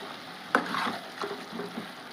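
A spoon scrapes and stirs through a prawn and egg curry as chili powder is mixed in, with a sharp clink followed by soft, wet sizzling and scraping, close and fairly quiet.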